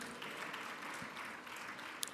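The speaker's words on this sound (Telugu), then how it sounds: "చప్పట్లు గట్టి కొడదామా?" Audience applause during a Telugu church sermon, a steady wash of many hands clapping at moderate level throughout the two seconds, slightly distant and even.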